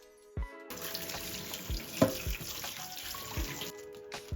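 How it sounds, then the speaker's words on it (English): Cold tap water runs into a sink over peeled potatoes, a steady splashing stream with a few sharper clunks and knocks as the potatoes are handled, close and clear with no talking. "and rinse under cold water."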